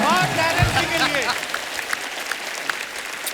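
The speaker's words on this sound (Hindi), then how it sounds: "एक बार जोरदार तालियां" Studio audience applause on a Hindi television comedy show, loud and close, starting under a host's voice that fades out while the clapping goes on steadily.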